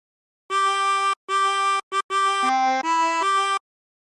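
A tremolo harmonica sounds a short phrase from the sea shanty Drunken Sailor. Several bright, reedy notes come in separated bursts with brief gaps, loud and close, and no voices.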